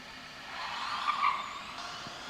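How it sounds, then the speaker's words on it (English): A Formula Student race car launches for a manual acceleration run, its tires spinning and squealing off the line in a steady, moderately distant whine and screech that swells briefly in the middle. "It did seem like a bit more wheel spin off the line this time."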